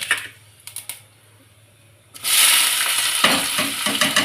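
Cumin seeds dropped into hot oil for tempering moong masoor dal: after a few light clicks, a loud close sizzle bursts in and keeps crackling steadily.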